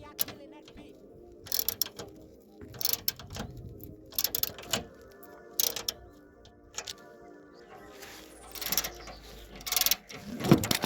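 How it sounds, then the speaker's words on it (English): A socket ratchet clicks in short bursts while removing nuts from a car's radius mounts, with repeated near, crisp ratcheting runs separated by pauses and faint workshop handling sounds. "sockets that we're going to use to remove these bolts over here, or nuts"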